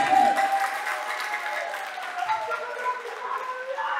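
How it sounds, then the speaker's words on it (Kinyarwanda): Congregation in a church applauding God together, a dense, steady wash of clapping from many hands with cheering voices mixed in, sustained throughout. "dukomere Imana amashyi menshi Yesu"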